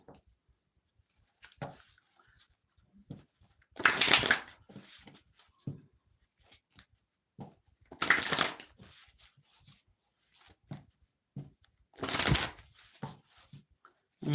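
Tarot cards from a Ganesha deck are shuffled in three loud bursts of riffling, each lasting about a second and spaced several seconds apart, with soft handling taps and rustles between them.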